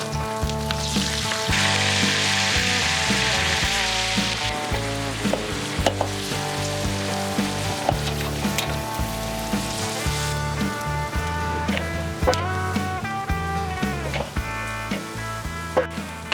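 A bone-in fillet sears bone side down in a hot pan, giving a steady sizzle that sits beneath louder, continuous music.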